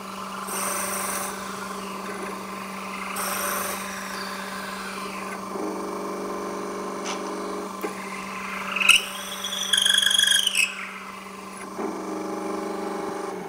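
A drill press bores into wood for a cheeseboard jig in repeated short passes, each a rasping burst of bit cutting wood over a steady motor hum, with a louder grinding stretch near the end.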